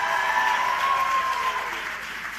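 Audience at an agricultural big data convention claps steadily with a few shouts, a dense continuous wash of applause with a faint tonal whistle-like line through the first half.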